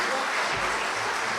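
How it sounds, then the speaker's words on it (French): A crowd at an evening gathering applauds the praise group with dense, continuous clapping, full and loud for the whole moment. "Encore vous applaudir très, très puissamment."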